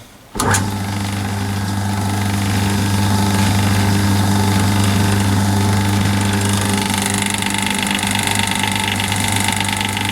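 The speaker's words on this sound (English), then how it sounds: "it's running absolutely smoothly in those pulleys" A Fenner link belt runs steadily on counter shaft pulleys in a workshop, giving a continuous, even mechanical hum with a low drone that starts abruptly and holds at a constant loud level throughout, with no talking.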